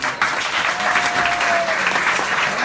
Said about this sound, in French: et on peut applaudir Charlotte.